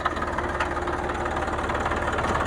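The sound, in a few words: tractor engine starting and idling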